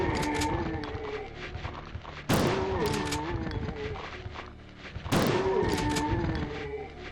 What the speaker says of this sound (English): Now do you see why I like old video game shotguns?